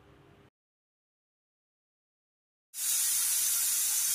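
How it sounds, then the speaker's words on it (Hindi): Short low murmur, then near silence, then a loud, sustained high-pitched hiss of steam bursting from a pressure cooker whistle on a medium flame while cooking chole, continuing to the end. "अब हमारा कुकर में 3 से 4 सीटी लग गया।"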